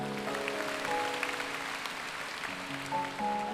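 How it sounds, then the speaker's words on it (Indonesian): Church congregation clapping during a sermon, a moderate spread of applause sitting under sustained organ or keyboard chords that shift in pitch throughout. "Kasih tepuk tangan untuk Tuhan."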